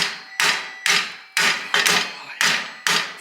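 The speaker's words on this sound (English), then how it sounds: "let me give her a couple little more taps here" Seven sharp hammer taps strike a metal barber chair part at a steady, unhurried pace, each ringing briefly before the next; close and loud.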